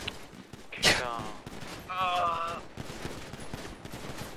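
Gunfire bursts in the video game GTA, a sharp loud shot cluster early on followed by scattered quieter pops, under game noise and a harmonic tone.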